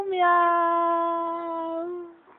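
A cat gives one long, drawn-out meow at a steady pitch, close and clear, fading out after about two seconds.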